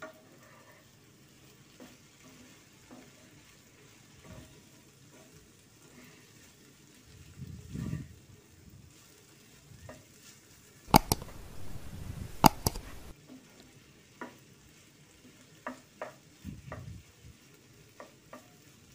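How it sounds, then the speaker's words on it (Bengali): Okra frying in a pan under a lifted lid is stirred. Quiet background sizzle is broken by scattered spatula scrapes and a louder burst of clattering stirring near the middle. There is no talking. "এবার একটু নেড়ে দেব।"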